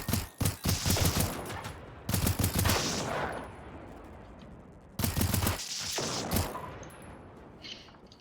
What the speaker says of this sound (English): I am missing all of my shots.